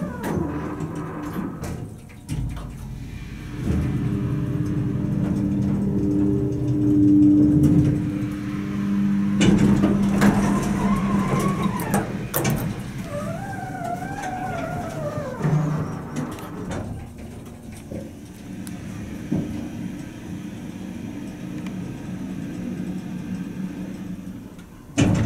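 An Otis Lexan hydraulic elevator at the Crown Center Sheraton pool in Kansas City runs through a ride, its motor giving a steady low hum with rising whines and clunks, heard close and alone.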